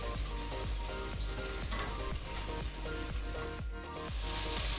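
Pointed gourd (potol) fries in oil in a pan for a fish curry, a loud, continuous close sizzle with a regular scraping rhythm from stirring.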